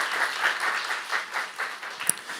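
Applause from a church congregation during a Saturday worship sermon, a fairly soft, steady wash of many hands clapping together, continuing evenly without any voices over it.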